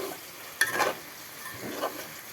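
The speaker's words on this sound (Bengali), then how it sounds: "এখন সয়াবিন দিয়ে দিব এখন অল্প একটু কষিয়ে" Soya chunks sautéed in a pan with browned potato, onion, green chilli, turmeric and salt: two brief scraping stirs sound over a soft, low background sizzle.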